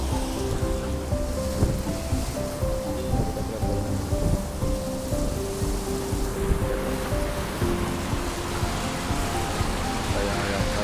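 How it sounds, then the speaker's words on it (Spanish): Heavy rain pouring at a bus stop in Arlington, Virginia, a constant loud wash of falling water with a low rumbling hum underneath, steady and unbroken throughout. "Como pueden ver, está lloviendo bien fuerte."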